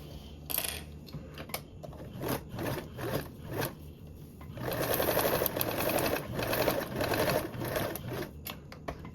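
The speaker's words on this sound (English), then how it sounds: "I'm gonna go ahead and sew 2 rows of stitching 1/8 of an inch apart along that center line." A sewing machine runs steadily, stitching two parallel rows along the centre line of mesh for a toiletry bag, with a continuous mechanical whir that grows denser and louder in the second half.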